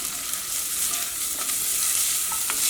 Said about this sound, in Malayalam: അപ്പോൾ ഓയിൽ നന്നായിട്ട് ചൂടായിട്ടുണ്ട്. ഇതിലേക്ക് ഇഞ്ചി, സവോള, പച്ചമുളക് ചേർക്കുക.